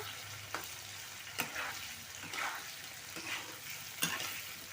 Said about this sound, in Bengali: কপিগুলো দিয়ে নেড়ে চেড়ে নিতে হবে